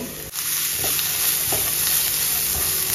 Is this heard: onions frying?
yes